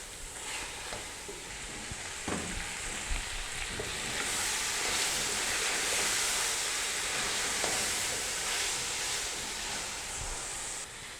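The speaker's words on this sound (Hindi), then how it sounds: "चिकन को हमने यहाँ पर 2 मिनट के लिए मीडियम फ्लेम पर भून लिया" Chicken with spices frying on a medium flame, a continuous close sizzle and hiss with occasional stirring scrapes, no talking.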